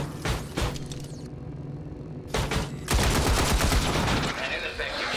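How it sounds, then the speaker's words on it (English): Enemy gunfire in XCOM 2 (Long War of the Chosen): loud, dense bursts of rapid shots roll into sustained volleys, with a brief lull before a heavier barrage. "Oh no, they're shooting at me."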